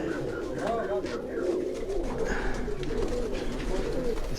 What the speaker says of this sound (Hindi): ये जो कबूतर आप देख रहे हैं ये भी सियालकोट नस्ल के बटेरे कबूतर हैं